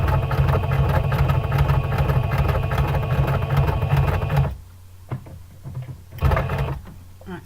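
A sewing machine stitches hessian and oilcloth for a placemat with a fast, even mechanical whir for about four and a half seconds, then stops, followed by a few short bursts of stitching and clicks.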